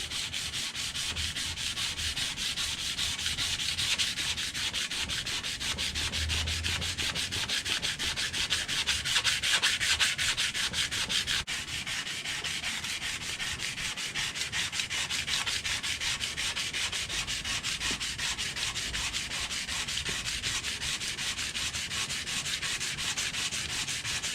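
Sandpaper rubs steadily over the steel of a horseshoe knife during cleanup and polishing, a continuous close, even scratchy hiss that runs without pause and with no talking.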